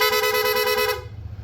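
An aftermarket PIA horn on a Honda ADV160 scooter gives one loud, bright, steady blast of about a second, close by, then cuts off abruptly, leaving low background rumble.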